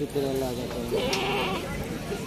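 A goat bleats at a busy goat market amid a dense hum of crowd voices and livestock, with a wavering call rising over the background chatter.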